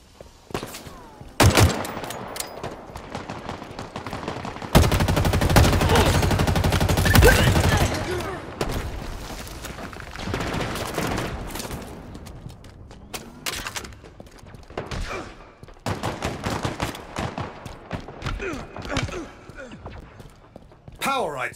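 Rapid bursts of automatic weapon fire in Halo Infinite multiplayer, loud and repeated in clusters with a heavy sustained volley near the start, then scattered shots and impacts continuing.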